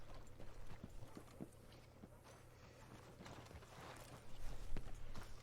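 Horse hooves clip-clop steadily at a walk in Red Dead Redemption 2, faint under a constant low hum and muffled game ambience, with no speech.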